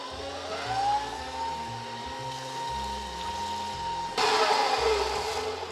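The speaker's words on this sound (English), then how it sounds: "the whole thing is gonna go in and we whisk all of that together until it's combined" An electric mixer whisks pumpkin puree into box-mix cake batter with a steady motorized whir and rising pitch. Music plays underneath, and the sound grows louder and brighter near the end.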